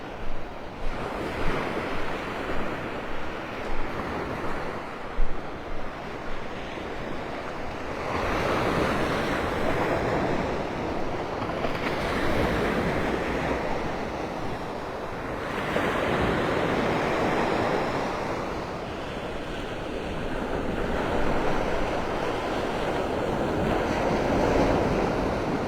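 Ocean waves break on the beach at Delnor-Wiggins in North Naples, Florida, surging in broad repeated swells every few seconds, loud and close, with wind buffeting the microphone and no talking.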